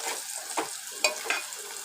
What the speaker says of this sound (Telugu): సరే ఫ్రెండ్స్, ఉల్లిగడ్డలు ఎర్రగా ఏగిపోయాయి.